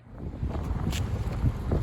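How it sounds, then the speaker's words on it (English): Steady wind buffeting the microphone, a low continuous roar with gusty swells and no voices. "It's a little windy."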